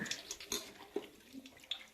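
Soft splashing and trickling of water as cauliflower is rinsed in hot water in a basin, quiet and close, with small irregular splashes.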